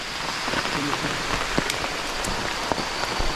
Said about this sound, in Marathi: कसलो पाऊस इलो हा बघा.